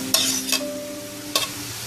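Boiled, mashed peas stirred into a cooking pan, with a few distinct scraping strokes of the spoon over a low, steady sizzle close by.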